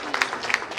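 Brief burst of audience applause at a Tamil pattimandram debate stage event, a dense patter of many hands clapping at moderate volume for under a second.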